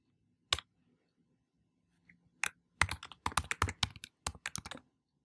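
Quiet bursts of computer keyboard typing at a terminal: a single keystroke, a pause, then rapid clusters of crisp clicks, close and alone.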